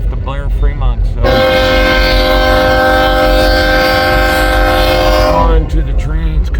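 A westbound Union Pacific train in Fremont, Nebraska sounds a long, loud horn blast of about four seconds over the rolling rumble of the passing cars, with voices talking just before and after.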